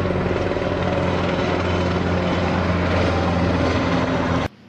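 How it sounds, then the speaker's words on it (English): Military helicopters, Little Bird and Black Hawk types, fly close overhead during training exercises in Boston, a loud steady rotor thump and engine drone that holds constant, then cuts off abruptly at the end. "training exercises using, that's right, your Little Bird helicopters, and of course, your Black Hawks."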